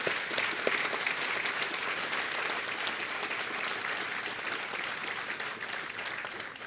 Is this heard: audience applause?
yes